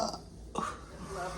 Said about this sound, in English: Those belches are the best.